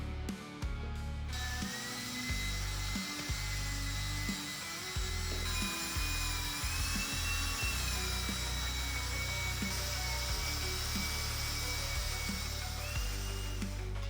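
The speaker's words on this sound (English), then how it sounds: "We're going to use this drill type polisher, and we're going to use different pads for the medium and the fine." A drill-type polisher buffs a Stratocaster-style guitar body with Oxford polishing compound, its motor whining steadily with pitch wavering as pressure changes, interrupted by short low thumps and brief pauses.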